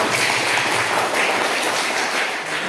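A classroom of students claps together at the end of a lesson, a brief, steady wash of hand claps held at an even level for a few seconds.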